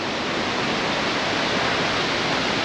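A waterfall roars on an Oregon camping trip, a loud, dense, unbroken rush of falling water filling the whole clip.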